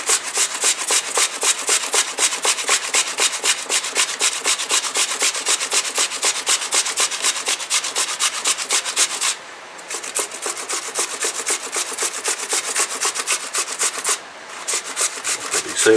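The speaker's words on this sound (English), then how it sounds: "we're just grating with the larger grate" Potato rubbed over the large holes of an old box grater makes steady, rapid rasping strokes in an even rhythm, close and loud, with two brief pauses between passes.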